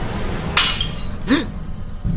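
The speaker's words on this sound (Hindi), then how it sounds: "तभी उसके सिरहाने पड़ी शीशे की बोतल अचानक जमीन पर गिरकर टूट गई।" A glass bottle falls to the floor and shatters, a bright crash followed by a second smaller clink and scattered shards over a steady low background hum indoors.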